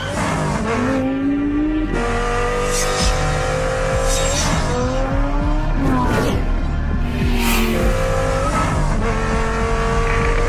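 A Daytona race car built from lightweight carbon composite, its engine roaring loud and close throughout, climbing in pitch and dropping back with each gear shift as it accelerates hard.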